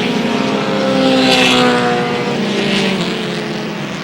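Race cars circle a racetrack at night, their engines droning loudly with rising and falling pitch as cars pass close by, one sweeping past around the middle.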